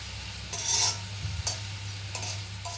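Homemade hair oil bubbles in a pan while being stirred, a soft steady simmer broken by a few scraping stirs and brief louder bursts of sizzle, with no talking.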